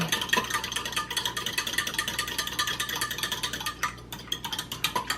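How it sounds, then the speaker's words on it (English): Chocolate chia pudding sweetened with stevia drops is stirred briskly, making rapid, rhythmic scraping and swishing strokes that repeat steadily and close by, with no voices. "I'm gonna stir that around"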